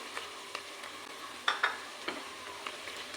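Chicken fries in a pan with ginger garlic paste as frozen tomatoes are added, a low steady sizzle broken by sharp, irregular clacks of a spoon stirring against the pan.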